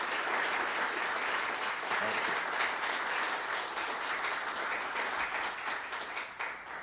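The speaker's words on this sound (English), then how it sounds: "I'd like us to offer a round of applause" Sustained applause from an audience at a global health partnership event, a dense steady patter of many hands clapping throughout, moderately loud and continuous, tapering slightly near the end.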